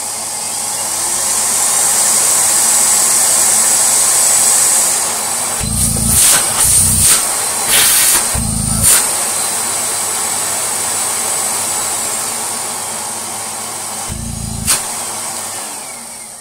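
A Miele vacuum cleaner motor runs steadily and loudly with a high whine, its carbon brushes bedding in, with several brief dips and bursts in the drone as it surges.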